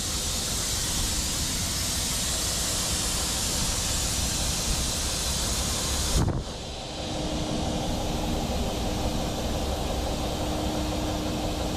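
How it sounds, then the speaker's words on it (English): A truck's air suspension dumps its airbags: a loud, steady hiss of rushing air runs for several seconds, then cuts off abruptly with a brief thump, leaving a quieter hiss. "flip this switch here. That's gonna go ahead and drop the airbags in the trailer."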